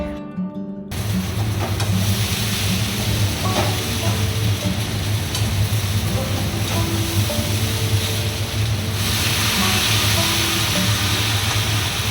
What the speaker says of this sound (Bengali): ম্যারিনেট করা চালটা একটু ভালো করে ভেজে নিয়ে